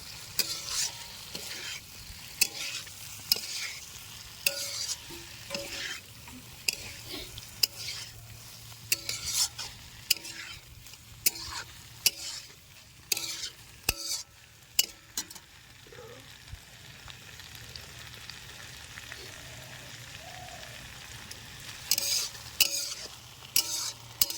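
Cauliflower and potatoes fry in a cashew spice paste in a kadai for a Bengali phulkopi roast, with steady soft sizzling broken by frequent scraping stirs and spoon clinks, close and fairly quiet, with no talking.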